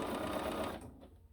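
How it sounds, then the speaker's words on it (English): A sewing machine stitches a seam on a Birds in the Air quilt block in one quick, close burst of rapid needle chatter that stops abruptly after under a second. "just take it to your machine and sew it"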